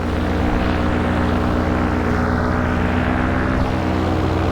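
A paramotor engine drones loudly and steadily in flight, its propeller buzz close and constant throughout with no talking over it.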